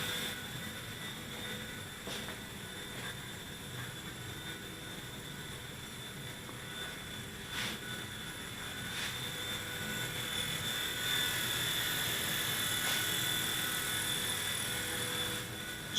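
A Silverlit Metal Copter toy RC helicopter flies around a room, its small motor and rotor giving a steady high whine and whir that rises slightly toward the end, with faint clicks and no talk.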